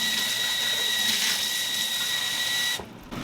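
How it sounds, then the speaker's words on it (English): Cooking liquid from chickpeas pours out through a strainer in a steady, hissing gush close by, then cuts off abruptly near the end. "I'm just going to strain out this liquid here"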